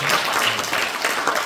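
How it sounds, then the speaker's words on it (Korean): A short burst of applause from a crowd at a launch ceremony, dense and even, many hands clapping at once in a room. "우리 한 번 더 박수를 주시겠습니다."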